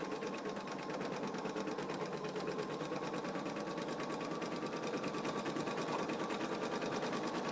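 An embroidery machine stitches a design with a steady, fast mechanical whirring and needle chatter that runs unbroken and even throughout, loud and close, with no voices over it.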